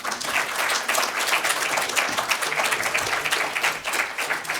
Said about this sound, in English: give all these contributors a big round of applause